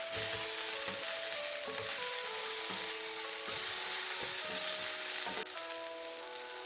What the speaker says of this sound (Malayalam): ഇനി ഇതിലേക്ക് നമുക്ക് അരിഞ്ഞ് വെച്ചിരിക്കുന്ന ഉരുളക്കിഴങ്ങ് കൂടി ചേർക്കാം നല്ലതുപോലെ ഇളക്കി ഒന്ന് യോജിപ്പിക്കാം